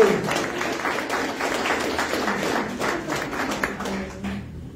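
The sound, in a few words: congregation applauding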